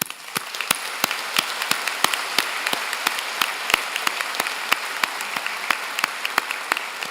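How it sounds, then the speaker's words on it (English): A graduation convocation audience gives a vigorous round of applause, dense overlapping hand claps, loud and sustained without pause. "thanking them with a vigorous round of applause"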